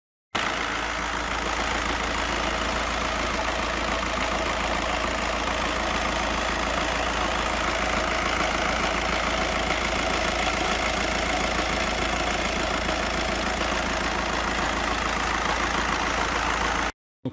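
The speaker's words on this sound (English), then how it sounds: "we'll fire this up, check for leaks" A Volkswagen Jetta 1.9 TDI diesel engine idles steadily with a dense, even clatter, heard close up and alone for the whole stretch without any change in speed.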